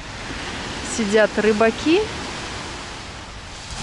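Sea waves wash onto a beach in Alanya, Turkey, a steady broadband rush of surf heard up close, with someone speaking briefly over it.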